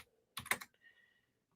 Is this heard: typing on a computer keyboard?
yes